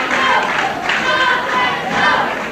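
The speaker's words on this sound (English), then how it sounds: "The crowd begins to yell" A crowd at a 1981 pro wrestling match between David Von Erich and Harley Race yells and roars, loud and sustained, with surging voices rising and falling throughout.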